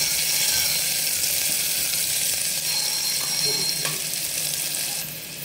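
Chopped onion sautés with cumin in a pan for misal, giving a steady, close broadband sizzle that runs unbroken through the whole stretch, with a few faint clinks in the middle.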